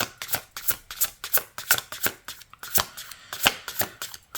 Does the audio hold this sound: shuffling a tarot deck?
yes